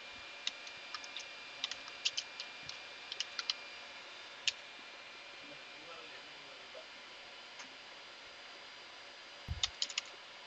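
Faint keyboard keys click in short bursts and scattered single taps as terminal commands are typed on a Linux Mint computer, over a quiet background hiss, ending with a firmer cluster of keystrokes.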